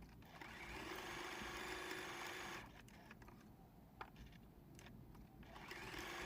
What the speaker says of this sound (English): Now I'm going to spend some time and do some straight line quilting, just stitching in the ditch where I've joined all of my pieces.